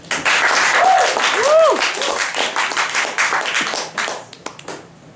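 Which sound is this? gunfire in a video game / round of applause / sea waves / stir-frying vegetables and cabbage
round of applause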